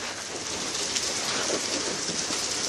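Heavy, warm rain pours down in a dense, steady hiss close around, with no voices over it.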